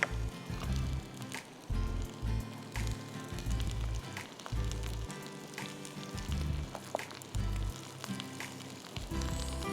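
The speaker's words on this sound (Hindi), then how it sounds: "एंड कीप सॉटेइंग दिस, जिंजर को अच्छी तरह सॉटे होने दीजिएगा" Ginger sautéing in a pan, a steady close sizzle with wet crackle and squishy stirring sounds, sometimes with low thuds, running continuously without talk.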